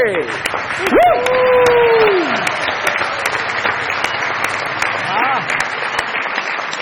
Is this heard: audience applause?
yes